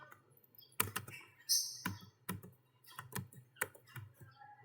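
Scattered keystrokes on a computer keyboard during a networking lab session. The taps are quiet and fairly close, with irregular clicks and a few louder presses spaced unevenly, and no talk over them.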